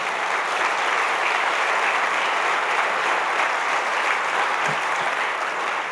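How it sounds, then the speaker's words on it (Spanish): A church congregation gives sustained, dense applause during a Holy Week sermon, loud and steady throughout with crowd murmur beneath. "démosle ese aplauso al Señor"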